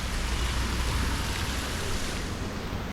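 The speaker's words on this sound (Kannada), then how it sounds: "ಜೋರು ಮಳೆಗೆ ನಾವು ನಿಂತಿದ್ದೇವೆ." Heavy rain falls in a continuous, dense hiss with no voices.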